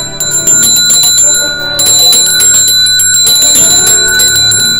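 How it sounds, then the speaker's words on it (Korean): A shaman's bell rattle rings loudly and continuously, bright jangling bells shaken in a steady shimmering wash for several seconds, with no one speaking. "종소리가 너무 좋은 것 같아요"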